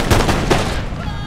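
Musket volleys in the video game Empire Total War, a loud crackling burst of overlapping gunfire fading into a rumbling tail, with a voice faintly underneath.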